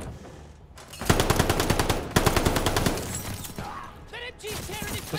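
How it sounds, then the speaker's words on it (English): Rapid machine gun fire in the shooter Call of Duty Vanguard, two loud sustained bursts with a short gap between them, followed by scattered shots and metallic clinks. "I'm shooting at my own dude"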